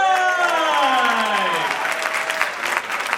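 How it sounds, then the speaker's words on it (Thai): Audience applause at a pageant opening show on stage, a dense wash of clapping under a fading sung or held tone at the start, continuing steadily for a few seconds. "ขอเสียงปรบมือกับทั้งสามท่านอีกครั้งด้วย"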